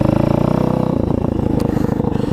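Apollo RFZ Chinese dirt bike from Amazon, just repaired and running without a clutch, its engine revving loud and close with a rapid, choppy idle that shifts pitch partway through.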